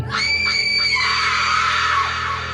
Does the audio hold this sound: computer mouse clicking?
no